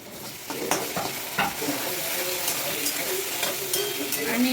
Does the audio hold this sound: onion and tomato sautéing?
yes